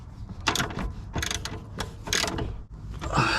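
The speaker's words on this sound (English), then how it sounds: "Now we've got the ball joint bolt in, we can then carry on tightening it." A ratchet tightens a ball joint bolt on the front lower arm of a BMW E60, close up: several quick bursts of clicking pawl strokes with short pauses between them.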